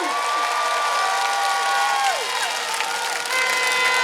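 Thick crowd at a Pheu Thai red-shirt political rally in Pathum Thani, loud sustained clapping and cheering with scattered whoops and whistles throughout.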